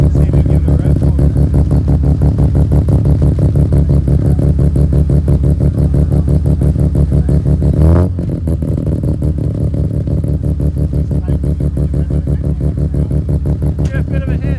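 A Mazda RX3 with a 10A rotary engine runs close and loud with a rapid, choppy pulsing, easing off slightly partway through.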